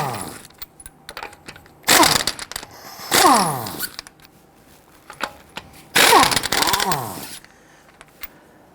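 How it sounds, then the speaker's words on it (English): Lug nuts on an Infiniti G37 X loosened and removed with a 21mm socket, heard as several loud bursts of an impact wrench whirring and rattling, with quieter clinks and gaps between them. "Using a 21mm socket, loosen and remove your lug nuts."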